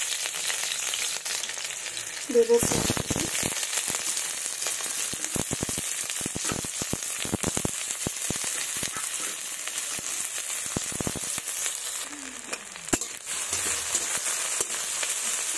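Slit green chillies fry in mustard oil in a kadai, a loud, continuous close-up sizzle with crackling bursts and a few spatula scrapes, while a single brief spoken word cuts in early.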